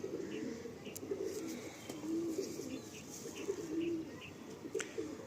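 Andhra pigeons, a flying breed, cooing in a loft: soft repeated low coos at a moderate distance over faint background chatter and a few thin high chirps.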